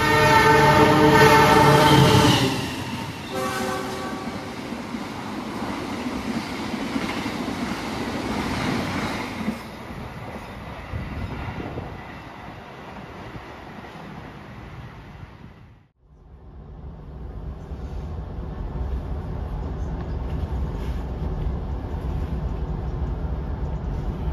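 Brawijaya passenger train pulling out of a Javanese station track: a loud horn blast opens, then a steady, close rumble and rolling clatter of carriages that dips briefly before the rolling noise continues, with no talk.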